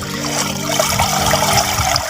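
Water splashes and trickles steadily onto potted vegetable plants during watering, a close, loud continuous pour with a soft gurgling patter, and no talk.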